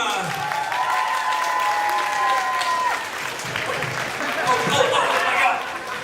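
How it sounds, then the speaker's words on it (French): A convention audience at a Paris manga and sci-fi show claps for an arriving guest actor, sustained applause with a long held musical tone and some voices running through it. "Je vous demanderai d'applaudir Colin Cunningham."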